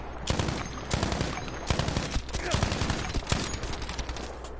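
Gunfire in Battlefield V, rapid bursts of close automatic shots in a dense fusillade with sharp cracks throughout, with a player's voice talking over the shooting.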